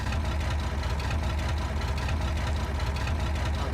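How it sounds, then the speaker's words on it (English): A tractor engine idles in Farming Simulator 22, a steady low rumble with a fast, even throb, loud and unbroken, with no talk over it. "Back away a little bit because that tractor's really loud."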